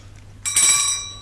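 A single bright bell strike, loud and close, ringing with a clear metallic tone that fades over about half a second after a quiet lead-in.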